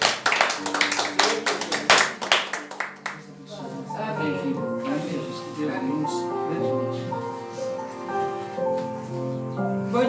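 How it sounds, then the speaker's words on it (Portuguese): Church congregation clapping loudly for a few seconds in sharp bursts, then fading as music with sustained tones takes over and continues underneath. "a igreja deu uma salva de palmas bem forte em nome de Jesus"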